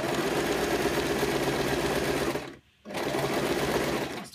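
A sewing machine runs a regular straight stitch through fabric along the presser foot edge, a steady close whirring hum that stops briefly and then starts again, with no voices.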